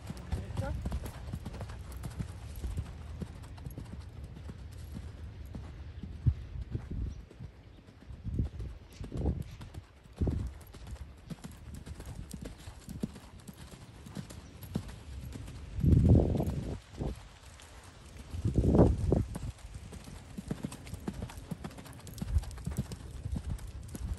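A horse canters with a steady clip-clop of hooves, close and fairly loud, while people talk over it.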